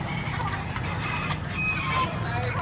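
Chickens cluck and chatter at a pets and livestock market, Rhode Island birds mixed with native fowl, steady and close, with occasional brief calls and a voice talking over the flock.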